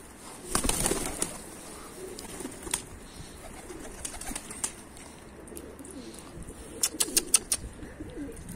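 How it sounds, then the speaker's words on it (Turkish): Pigeons in a loft, with faint low cooing, occasional wing flaps and sharp sounds in bursts against a quiet background. "kuş kendiliğinden bu sefer sana yakala diye bağırıyor adeta beni"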